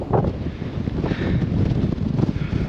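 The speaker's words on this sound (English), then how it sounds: "the wind really picked up" Strong wind gusting across the top of a canyon, buffeting the microphone with a loud, continuous low roar that swells and eases, with no one speaking.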